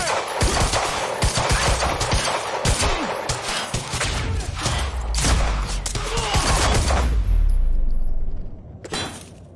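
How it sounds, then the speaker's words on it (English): Heavy gunfire in a Quantum Break firefight: dense bursts of automatic and single shots crackle continuously at close range with booming impacts, tapering off near the end. "He's got a gun! Open fire!"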